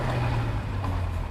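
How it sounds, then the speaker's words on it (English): A BMW N54 335i fitted with a Chinese 17T hybrid turbo is driven, making a loud, steady broadband roar with a low droning hum underneath. "The turbo noise."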